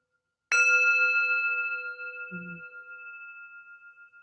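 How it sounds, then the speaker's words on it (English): A small bell is struck once to close a mindfulness exercise, giving a clear ringing tone that decays slowly over several seconds, with a faint low murmur partway through. "Just a little bell to close that"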